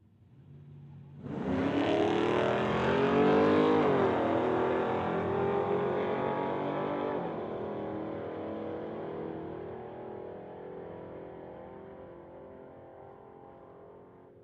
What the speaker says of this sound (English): going against Dorian from Burnaby in the 2008 BMW 335. Chev versus BMW right here